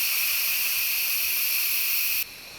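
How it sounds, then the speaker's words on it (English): Steady loud hiss of steam venting from an Instant Pot's pressure-release knob while cranberry sauce with port cooks inside, continuous and close, then cutting down sharply near the end to a quieter hiss. "Now we're going to release the pressure."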